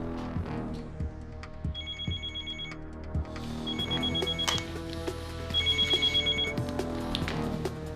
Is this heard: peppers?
no